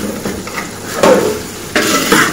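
Haleem mixture being roasted and stirred in a pot, with a soft sizzle under scraping strokes and two sharper clanks of a spoon against the metal, close and fairly loud.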